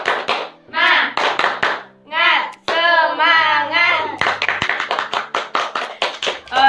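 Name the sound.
group doing rhythmic scout clapping (tepuk pramuka)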